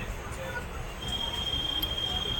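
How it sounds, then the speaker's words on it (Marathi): A passenger train on the Mumbai to Konkan route rumbles steadily from inside the carriage, with broad low roar and faint rail hiss continuing throughout and growing slightly louder partway. "Train train."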